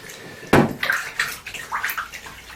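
A BBC Micro circuit board is dunked into water and scrubbed with a brush, giving a sharp splash followed by several rhythmic sloshing, swishing strokes, close and fairly loud.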